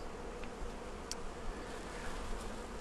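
Honey bees buzz continuously during a pre-spring hive inspection, a thick, close, steady drone with a few brief louder passes near the listener.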